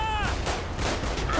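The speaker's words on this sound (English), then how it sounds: "They're just shooting at her" Gunfire in GTA 5 as police shoot at a woman, a dense burst of rapid overlapping shots with echoing cracks over a brief stretch.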